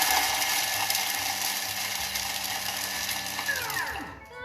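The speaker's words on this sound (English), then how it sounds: "I'm going to pop the lid on, and it's just going to mill it for you." A Thermomix milling black peppercorns on speed 8 gives a loud, steady, whirring grind that runs for about four seconds and then winds down as the motor slows near the end.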